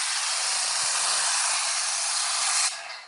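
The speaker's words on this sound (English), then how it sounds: "So let me spray that off again" A car is rinsed with a spray of water, giving a steady, loud, broadband hiss that runs almost without a break and tapers away in the last moment.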